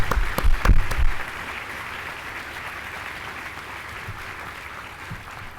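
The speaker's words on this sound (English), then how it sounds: "Let's give them a big round of applause." A crowd claps steadily at a medical school white coat ceremony, with a few louder claps near the start, then sustained even applause continuing throughout.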